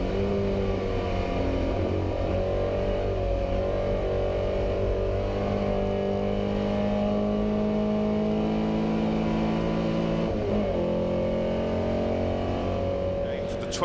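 Historic race cars including a Jaguar racing at the Goodwood Revival Fordwater Trophy, engines droning loud and steady throughout with sustained revving tones, a brief dip near the end, and a commentator talking over the noise.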